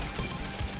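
Gunfire in the video game Fortnite: a quick, quiet flurry of shots that blends into a rumbling game soundtrack, with no voices over it.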